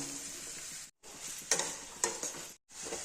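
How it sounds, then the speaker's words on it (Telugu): Ridge gourd pieces and onions frying in hot oil give a steady sizzle with two sharp stirring bursts, broken by two brief gaps of silence. "కట్ చేసి పెట్టుకున్న బీరకాయ ముక్కలు వేసుకుందాం."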